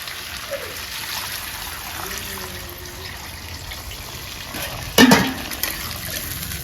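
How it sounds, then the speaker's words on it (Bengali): Water goes into a pan of Bengali rohu fish and cauliflower curry, hissing and sizzling steadily over frying and stirring, with a sharp louder splash near the end. "এখনই জল দিয়ে দেবো।"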